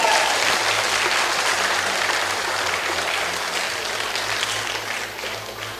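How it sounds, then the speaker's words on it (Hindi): Loud, sustained applause from a large audience greeting a speaker at a public talk, continuous dense clapping that holds steady throughout and tapers only slightly toward the end. "जोरदार ताली हो जाए इनके लिए।"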